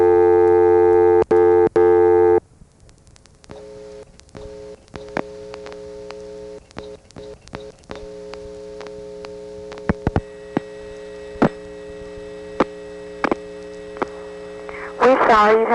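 Telephone intercept tones from a 1976 electronic switching exchange in Morgantown, Pennsylvania: a loud, steady tone burst at first, then quieter sustained tones with scattered clicks and brief beeps, ending in a short warbling rise.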